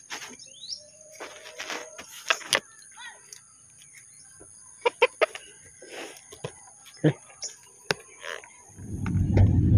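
Chickens on a Filipino farm cluck and call in scattered short bursts over a quiet outdoor background, with a louder rustling noise near the end.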